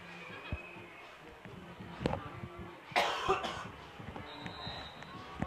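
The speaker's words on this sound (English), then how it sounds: "trying to do my best not to cough into my headset" An ill sports commentator coughs close into a headset microphone during a Camdenton vs Kickapoo football broadcast, with a couple of sharp, loud coughs in quick succession and faint game-crowd ambience underneath.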